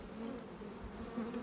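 Honey bees swarm over an open brood box on a hive, a steady close buzzing hum that fills the short moment without pause and with no voices.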